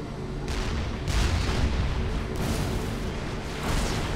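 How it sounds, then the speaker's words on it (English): Tank rounds fire repeatedly in a Supreme Commander 2 battle, dense booming artillery-like blasts that roll together into a continuous loud rumble with several stronger bursts, no voices. "You can see those tank rounds just come right out of those tanks."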